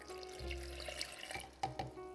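A cup of water pours into a blender holding cashews and dates for plant-based Nanaimo bars, a brief low gurgling splash followed by faint trickles and a couple of small clinks near the end.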